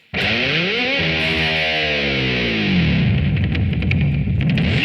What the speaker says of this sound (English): And then I'm going to do that dive bomb